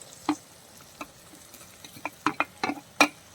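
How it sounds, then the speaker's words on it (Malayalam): Thinly sliced onions and small shallots sautéing in a pan, with a soft steady sizzle under irregular scraping stirs and clinks from a spoon, close up and fairly quiet, with no talking. "അതും കൂടി ചേർത്തൊന്ന് വഴറ്റി കൊടുക്കാം സവാളയും ചേർത്ത് ഇതേ വഴറ്റി"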